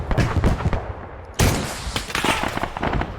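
Rapid gunfire from an Arma 3 battle, dense bursts of automatic shots crackling loud and close, with a brief lull before another heavy volley breaks out.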